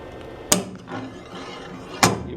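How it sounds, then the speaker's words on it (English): A slide hammer pulls a dent in a Mustang trunk lid, giving two sharp, loud metallic pops about one and a half seconds apart over a quiet workshop background. "I'm going to hook on with my slide hammer"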